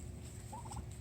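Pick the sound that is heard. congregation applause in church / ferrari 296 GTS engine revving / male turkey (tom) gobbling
male turkey (tom) gobbling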